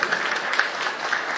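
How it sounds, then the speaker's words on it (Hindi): An audience claps steadily at an event of a broiler breeders association in Bihar, a dense continuous patter of many hands at a moderate distance, with no pauses. "सभी लोग जोरदार ताली बजाएंगे"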